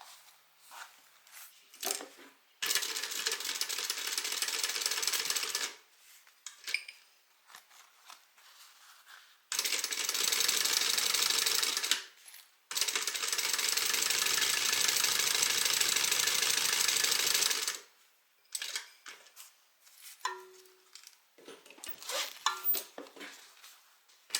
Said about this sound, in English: And now I'm going to top stitch along the zipper edge